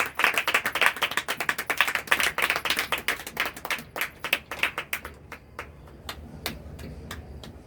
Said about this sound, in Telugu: చప్పట్లు కొడుతూ అయ్యగారిని ఆహ్వానిద్దాం